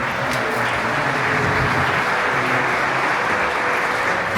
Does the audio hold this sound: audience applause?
yes